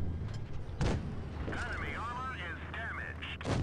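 Tank cannon shots in the mobile game World of Tanks Blitz, two sharp booming blasts near the start and end with game effects between, heard over steady background noise under speech.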